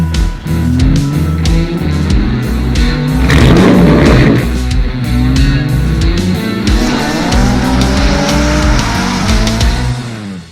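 A twin turbo V8 Morris Minor revs hard and accelerates, its engine note climbing through gears with a burst of tyre squeal and skidding in the middle, loud and close throughout.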